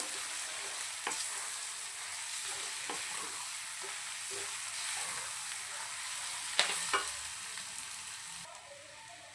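Boti fry (goat tripe) stirred with masala powder in a hot pan, a steady close sizzle with irregular scraping and stirring knocks throughout, no voices.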